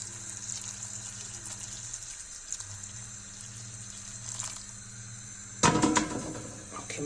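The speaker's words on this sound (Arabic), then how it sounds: "ونديروا الماء. الماء راه شويه حامي ماشي بزاف." Warm water runs from a tap into a pot of fava beans and peas, a steady faint hiss that swells into a louder splashing gush near the end.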